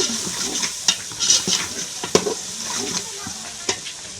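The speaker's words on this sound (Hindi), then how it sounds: "ये जी लाल मिर्च डाल चुके हैं, तो इसको मारेंगे चम्मच।" A spoon stirs red chili frying in a pan, giving close scraping strokes and light metallic clinks over a continuous hissing sizzle of hot oil.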